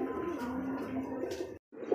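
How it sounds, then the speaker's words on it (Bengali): Sky-blue Rasgolla breed pigeons at a farm coo in a low, continuous rolling murmur close by, with a brief dropout near the end before the cooing resumes. "এখন দেখছি আকাশি কালারের মধ্যে রাসগোল্লা কবুতর"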